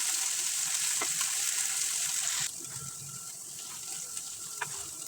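Garlic paste frying in a little oil for a winter mixed vegetable dish, a steady hissing sizzle that drops suddenly to a quieter simmer partway through, with a few faint clinks.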